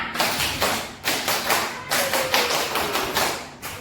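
Children perform the Indonesian scout clap in a classroom, a patterned series of sharp, near group claps in rhythmic bursts with short pauses between them, played out almost entirely without talk.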